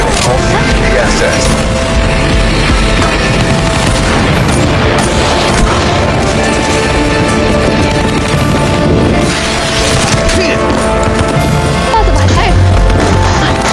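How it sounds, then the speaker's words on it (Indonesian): Dense, continuous din of booming bomb blasts and rapid machine-gun bursts at night in a forest, loud and sustained throughout with no pauses. "Ledakan bom dan rentetan kapal mesin memecah kesunyian malam di hutan kawasan Wonogiri"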